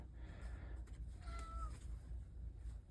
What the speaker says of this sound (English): I have no idea why my cat is trying to get my attention.